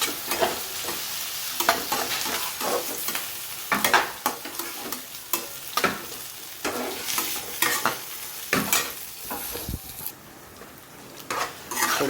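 Ingredients with fresh lemon juice being stirred and mixed in a metal pot or pan, continuous scraping and clattering strokes in an uneven rhythm, close and fairly loud, no voices.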